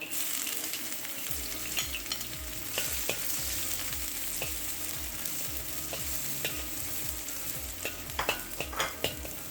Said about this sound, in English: Stir that around, we'll let it nice and brown up.